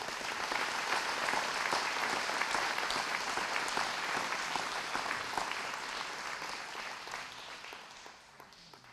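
A banquet crowd at a veterans hall of fame ceremony applauds an honoree, dense sustained clapping that holds strong for most of the stretch before gradually thinning out at the end.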